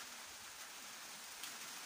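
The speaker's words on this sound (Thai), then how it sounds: "นี่ค่ะฝนลงเม็ดโปรยๆนะคะ" Light rain drizzles steadily on a rural farm, a soft, even hiss of drops, fairly faint and unbroken, with no voices.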